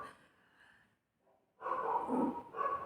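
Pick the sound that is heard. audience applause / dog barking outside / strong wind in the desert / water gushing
dog barking outside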